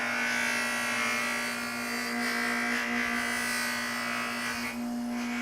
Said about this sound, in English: I'm loving my new little polishing station that I got down here.